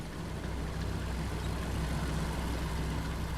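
A tank idling in Hell Let Loose rumbles with a steady low engine drone, constant and moderately loud throughout with no breaks and no talk over it.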